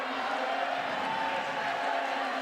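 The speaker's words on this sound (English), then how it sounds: "Hear the crowd, what a wonderful crowd we have here tonight" A dense arena crowd at a women's boulder climbing final in Meiringen roars and cheers steadily, a loud continuous wash of voices throughout.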